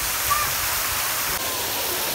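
Water gushes and splashes steadily from inside a cave-like spot while travelling, a close, continuous broadband rush with no pauses.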